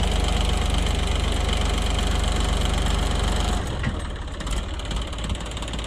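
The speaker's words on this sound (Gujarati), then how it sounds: "આ ટ્રેક્ટર લગાવી રહ્યા છે" A tractor engine runs on a farm where manure is being spread, a loud, steady diesel rumble with knocking pulses that drops slightly in level toward the end.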